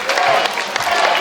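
A wrestling crowd at the Monster Mash 2025 event claps and cheers in a short burst of close, dense applause, with voices shouting among it.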